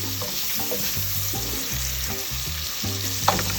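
Turkey bacon sautés in a pan with season salt, a dense, even sizzle that holds steady throughout alongside low musical tones and one brief clack near the end.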